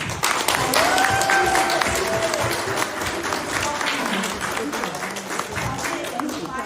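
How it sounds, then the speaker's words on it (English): Loud applause from an audience at an annual meeting of a leadership foundation chapter in Seattle, dense clapping with cheering and voices mixed in, steady for several seconds. "So let's give Xiaoyan a round of applause."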